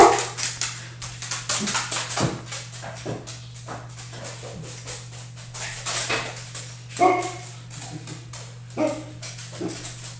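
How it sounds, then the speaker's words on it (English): A dog barks and yips excitedly over and over, close by, with whimpers between the barks and a steady low electrical hum underneath. "You can hear my dog in the background."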